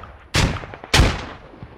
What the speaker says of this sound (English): Grenades going over the wall.